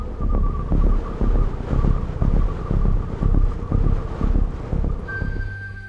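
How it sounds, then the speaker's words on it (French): Wind gusting across the hilltops of Cap Corse, a steady loud rush with rhythmic buffeting against the microphone and a low throbbing hum, with no voices. "Le vent fait partie intégrante du décor au sommet des collines du Cap Corse."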